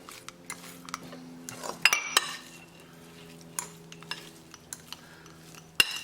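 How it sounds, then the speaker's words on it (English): Two forks clink and scrape against a bowl while lamb chapli kebab mixture with onion, tomato, ginger and green chili is stirred, a series of light, close metallic taps and scrapes, with no speech. "with the help of 2 forks, just make sure that you mix it well"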